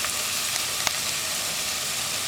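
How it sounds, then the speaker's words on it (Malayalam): Onions sautéing in a pan with salt and half a teaspoon of turmeric powder for a potato carrot curry, a steady close sizzle throughout with a couple of faint stirring clicks. "ഇത്രയും ചേർത്തിട്ട് നന്നായിട്ട് വഴറ്റുക"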